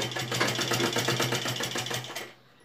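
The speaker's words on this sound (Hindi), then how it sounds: "इस कॉलर वाले कपड़े के ऊपर से सिलाई हमने लेनी है।" A sewing machine runs a steady, rapid stitch along a folded collar fabric, the even mechanical chatter loud and close for about two seconds before it abruptly stops.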